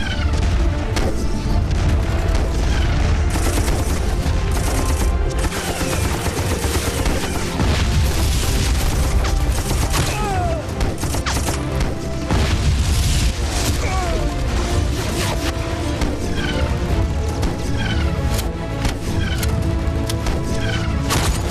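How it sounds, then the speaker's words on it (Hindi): Battle scene from the 2016 film Saya e Khuda e Zuljalal, with dense, loud, unbroken gunfire, heavy booms and crashing explosions, overlapped by shouted voices throughout. "इस तरफ से हैवी फायर हो रहा है सर।"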